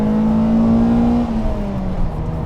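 A 1989 Mercedes-Benz 190E Evo I with a manual gearbox revs hard nearby, its engine note climbing steadily and then easing off slightly, loud and alone with no talking.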